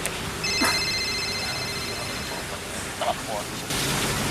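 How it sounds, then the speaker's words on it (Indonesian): Telephone ringing in a Sundanese comedy short, a short electronic ring heard once near the start against a noisy background with voices around. "Telepon Mang Bani mah."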